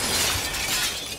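Glass shatters loudly in the video game Receiver 2, a dense burst of breaking shards filling the whole short moment.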